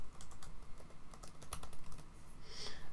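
Typing on a computer keyboard while entering a command, a quick irregular patter of close, fairly quiet key clicks with no talking.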